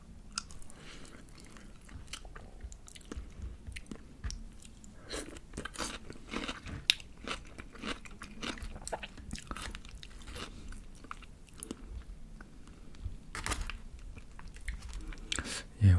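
BBQ Golden Olive fried chicken is bitten and chewed close to the mic, giving repeated crisp crunches and wet chewing at an irregular pace throughout.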